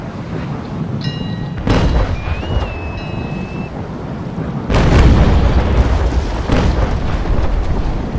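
Ship cannon fire striking a brig during a naval battle in a video game, heavy booming impacts with rumbling crashes, two big blasts standing out, loud and close over a stormy, roaring backdrop.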